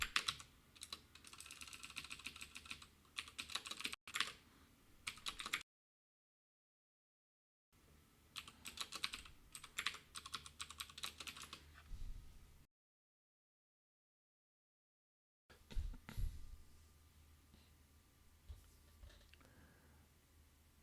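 Continuous rapid typing on a computer keyboard while code is written, dense clattering bursts broken by two silent gaps and a final shorter stretch, fairly quiet and without talking.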